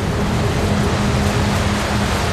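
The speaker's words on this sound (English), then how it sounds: "The water's gushing, it's roaring, it sounded like Niagara Falls" Floodwater gushes and roars through a flooded coal mine tunnel, a loud, constant broadband rush with deep low rumble and no pauses.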